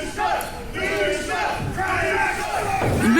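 A wrestling crowd at a live barnyard bunkhouse match cheers and shouts for Bishop Baylor in loud, continuous waves of massed voices with a few yells standing out.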